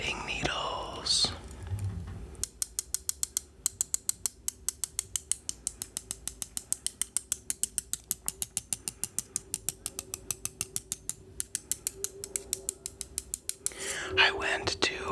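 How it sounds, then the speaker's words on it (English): Knitting needles click steadily and close up for about ten seconds, a fast even run of sharp little taps, with soft whispering at the start and end. "First up, I have knitting needles."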